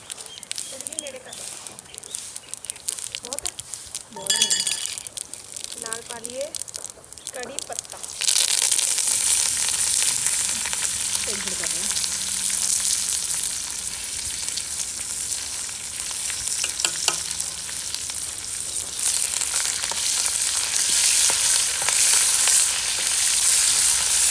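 Cumin and red chili hit hot oil with a sudden loud sizzle that starts partway through and stays steady and bright, with light stirring; talk and clatter are heard in the kitchen before the frying begins.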